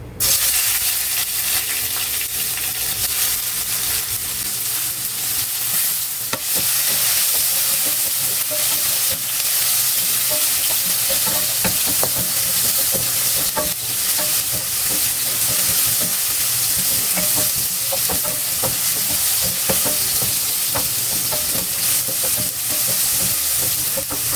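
Chopped tomatoes hit a hot pan while cooking a Filipino sautéed bitter melon dish with egg, producing a loud, dense, continuous sizzle and hiss that holds steady throughout with no talking.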